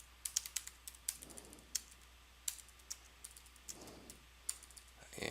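Fast, irregular clicks of a computer keyboard being typed on, faint and close, in bursts with short pauses and no talk.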